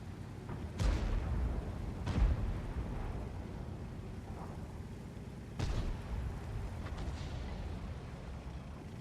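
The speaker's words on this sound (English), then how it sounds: "Artillery's fired." Artillery firing in the tank battle video game World of Tanks, a few distant heavy booms with rumbling decay spaced several seconds apart over a low continuous engine-like drone, no speech.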